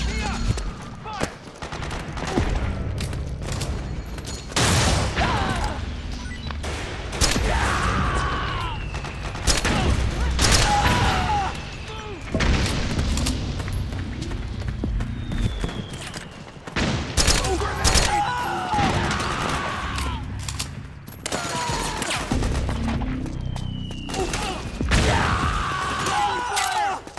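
Sustained gunfire in the Metal Gear Solid 4: Guns of the Patriots video game, with dense bursts of automatic fire and shots crackling continuously throughout, plus impacts and shouted voices mixed in the battle.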